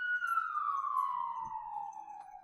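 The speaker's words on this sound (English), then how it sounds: "As the ambulance goes by." An ambulance siren passes outside, a single smooth wail sliding steadily downward in pitch at moderate distance, faint beneath a quiet background.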